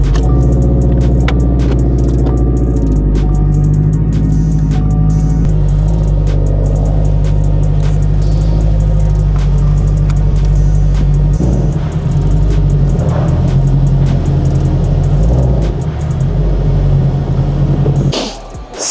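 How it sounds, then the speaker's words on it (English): A Subaru WRX rolls into a garage, its engine a steady, loud low rumble with a faint rev near the start, droning continuously and easing off only in the final moment. "let's get the car in here"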